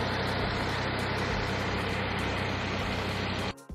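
Engine of a 2021 Porsche 911 Carrera running steadily at idle, a loud broadband hum close to the microphone that drops away abruptly near the end.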